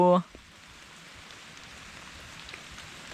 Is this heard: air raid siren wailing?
no